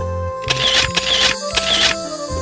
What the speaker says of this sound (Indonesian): Mas Dandi boleh foto bareng nggak?